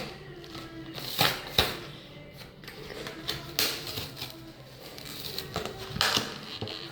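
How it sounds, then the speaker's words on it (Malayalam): Rustling, clicking and tearing as a toy bought at a church festival is unboxed by hand, with a run of sharp snaps and crinkles close by at an irregular pace and no talk. "അപ്പോൾ ഇത് നമുക്ക് അൺബോക്സ് ചെയ്യാം കേട്ടോ"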